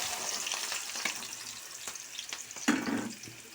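Onions sizzle and fry in a pan for a chicken, egg and drumstick curry, a steady close crackle with a few clinks and stirring sounds, no voices.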